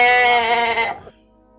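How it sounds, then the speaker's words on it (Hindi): A goat bleats loudly in one long, wavering, harmonic-rich cry that breaks off abruptly, leaving near silence. "और फिर बकरी जोर जोर से चिल्लाने लगी"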